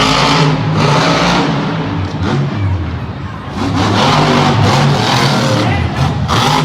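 Bad Company monster truck engine roaring loud and near at a Monster Jam freestyle event in Oakland, steady revving with brief dips in the middle, crowd and arena noise underneath.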